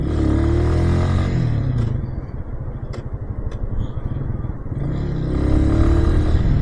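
Engine of a 250cc Chinese-brand motorbike idling with a steady low rumble and light clatter, easing off briefly mid-clip before swelling back up, heard close with no one talking.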